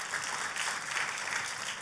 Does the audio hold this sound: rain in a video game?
no